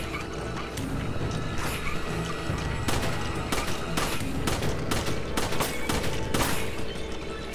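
Rapid gunfire in Resident Evil 5, a steady stream of sharp shots over a constant dense background rumble, loud and close, with no talking.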